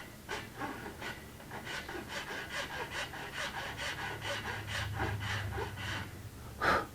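A hand file rasps across the wood of a 1964 ES 335 guitar build in a workshop, a steady run of short rhythmic strokes, close and fairly quiet.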